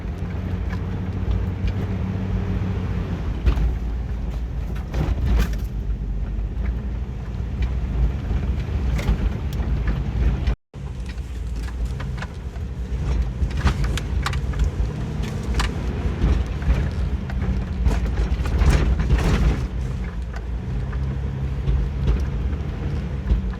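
A Jeep drives across the sandy open ground of Hopkins Prairie in Ocala National Forest, a steady loud engine drone and rumble mixed with heavy wind buffeting and rattling, continuous throughout with one brief dropout.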